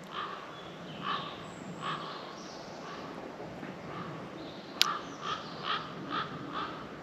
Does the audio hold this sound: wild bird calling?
yes